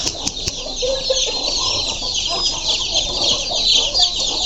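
Several desi chickens kept on a city plot cluck and chatter close by, with a constant high-pitched background hiss and a few sharp knocks.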